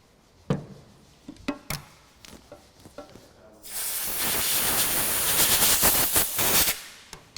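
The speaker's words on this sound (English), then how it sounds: "Compressed air treatment," Compressed air blasting cleaner through the small progression jets of a Fiat Dino carburetor: a sustained loud hiss of several seconds, preceded by a few sharp clicks and handling knocks.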